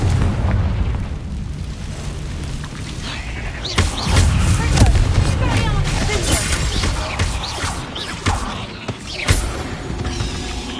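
Confringo blasting spell detonations in the video game Hogwarts Legacy, set deep in a cave: repeated booming bursts over a dense rumbling background, with a strong blast near the middle and smaller pops later.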